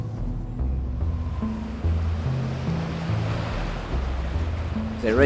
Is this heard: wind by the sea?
yes